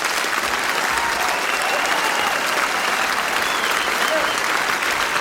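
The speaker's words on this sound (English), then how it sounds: "could you give a huge, warm, rapturous round of applause to two lads that come out here" Warm, sustained round of applause from a live audience for two performers coming on stage, a dense, steady wash of clapping that stays loud from start to finish.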